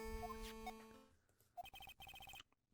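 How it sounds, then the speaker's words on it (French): A Phoenix Wright: Ace Attorney phone ringtone, the Fragrance Dark Coffee version, plays as a short chiming melody of bright tones followed by a rapid repeated beeping pattern, fairly quiet and clear. "Qu'est-ce que c'est que cette sonnerie?"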